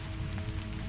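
Rain falls steadily on a cabin window as a dense, even patter, close and fairly loud, with no voices.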